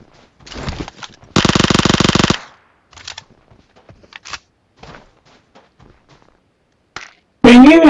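Gunfire in the mobile battle royale game PUBG Mobile, loud rapid automatic bursts with one sustained second-long volley and scattered shorter shots, with brief voices around them.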